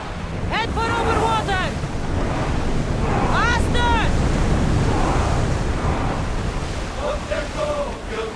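Ocean waves and wind rush steadily around a sailing ship at sea in Assassin's Creed Odyssey, a loud continuous wash under bursts of voices.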